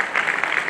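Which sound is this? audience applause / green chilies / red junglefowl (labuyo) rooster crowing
audience applause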